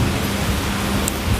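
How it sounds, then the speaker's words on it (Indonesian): Steady rain falls in a continuous, even wash of noise, loud and close, with no voices and no distinct drops standing out. "Hujan yang turun ini membuat bumi jadi basah."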